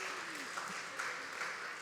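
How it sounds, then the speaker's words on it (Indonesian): A school congregation at an opening-of-year worship service gives a faint, steady round of applause from a distance, filling the moment with even, low-level clapping. "Kita tepuk tangan dong ya."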